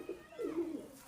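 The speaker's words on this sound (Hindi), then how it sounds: "ये देखें रामपुरी कबूतर है।" A Rampuri pigeon gives a short, soft coo, a single low throaty call lasting under a second, close by and quiet.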